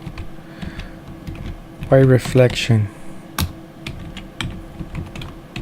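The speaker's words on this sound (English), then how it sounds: "Just typing" Scattered clicks from computer keyboard keys tap at an uneven pace with soft mechanical detail, and a voice speaks briefly partway through.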